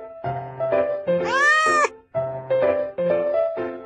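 A kitten meows in a children's animal-sound guessing game, giving several loud, close, tonal meows in a short sequence with one longer, higher rising cry in the middle.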